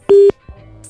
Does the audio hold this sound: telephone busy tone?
yes